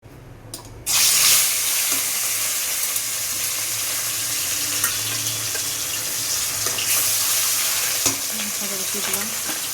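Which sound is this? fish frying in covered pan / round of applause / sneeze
fish frying in covered pan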